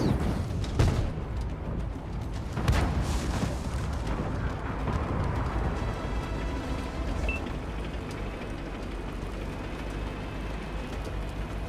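In World of Tanks, a tank gun fires a couple of heavy booming shots at a light tank, followed by rumbling engine and battle noise that gradually fades.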